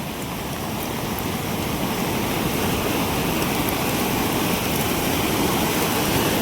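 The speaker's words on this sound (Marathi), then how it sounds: "पाऊस चालू आहे इकडं आणि खाली पण पाणी बघू शकता किती असं पाणी आहे" Heavy rain falling over the flooded Girna river near Kem temple in Surgana, with floodwater rushing below, forms a loud, steady, unbroken roar of water and rainfall with no voices.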